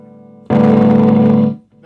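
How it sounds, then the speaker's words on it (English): A single electric guitar chord strummed through a modified Fender Blues Deluxe amp with the overdrive engaged rings loud and thick, sustains about a second, then cuts off, leaving a faint hum. "I can just hit a chord and listen to the overdrive pickup as I roll the control up"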